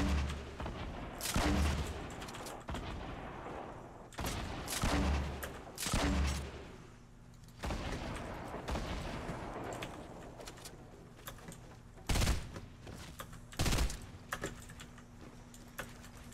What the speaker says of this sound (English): It shoots, this gun shoots kind of slow. I mean, it is a burst gun.